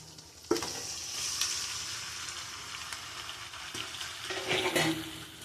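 Ginger, garlic and chili paste with chopped tomatoes hit hot oil in a pan, a sudden loud sizzle that settles into steady frying with spatula stirring and clinks, close and continuous with no voices.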